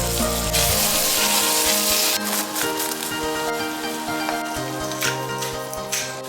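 Taro cake ingredients stir-fried in a hot saucepan over medium-low heat, a dense continuous sizzle with occasional spatula scrapes, heavy with music throughout.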